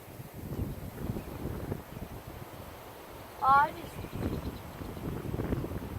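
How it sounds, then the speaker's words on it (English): Low, gusty wind rumble buffets the microphone throughout at an Iowa farm pond, with a brief higher tonal whine in the middle. "it's kind of really windy"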